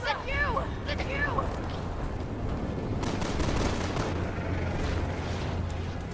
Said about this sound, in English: Oh, shooting like that.